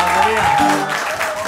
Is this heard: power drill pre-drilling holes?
no